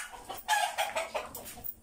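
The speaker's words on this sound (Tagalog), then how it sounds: "Mga native to. Native chicken." Native chickens clucking nearby in a series of short, uneven bursts, with a rooster-like call rising among them, heard alone without talk.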